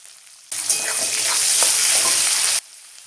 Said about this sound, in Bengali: একটা বড় সাইজের পেঁয়াজ কুচি দিয়ে দেব